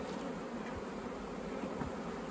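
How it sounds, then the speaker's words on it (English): Dense buzzing of honeybees at a hive fills the air continuously and loudly, a thick steady hum with no voices. "Look at the bees in there."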